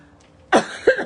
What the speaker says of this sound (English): can't be coughing now.